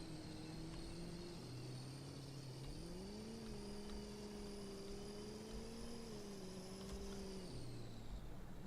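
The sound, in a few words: truck turbo whine in the video game Farming Simulator 22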